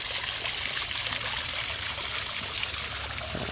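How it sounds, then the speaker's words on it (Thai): Water pours steadily from a 2-inch outlet pipe of a 1,100-watt solar pump into an earthen pond, a continuous close splashing rush with no talk. "ทำน้ำตกครับผม"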